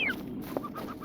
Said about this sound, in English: I don't mind birds at all